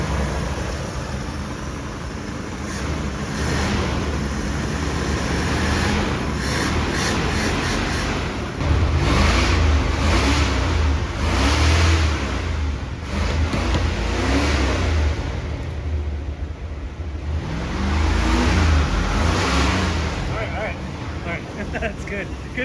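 The engine of an old mural van, just back from a rusted pulley repair, idles roughly and then revs up in several swelling bursts. People talk nearby.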